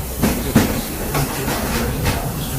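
Walt Disney World Railroad train in the Magic Kingdom, a steady rumble and hiss of a moving ride with faint rhythmic clacks and a couple of soft knocks, close and continuous.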